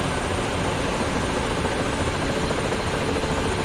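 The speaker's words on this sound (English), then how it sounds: "Yeah, the RPM of the turbines are going up and down." The turbines of a Ka-50 Black Shark helicopter run in the DCS flight simulator, giving a loud, steady, continuous engine roar and rotor whine that fills the whole stretch, with no talk over it.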